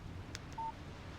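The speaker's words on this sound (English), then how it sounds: "Text message from Barry" A short electronic text message notification beep on a phone in the video game Alan Wake, a single faint tone heard alone with a soft click just before.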